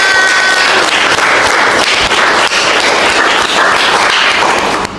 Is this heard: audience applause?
yes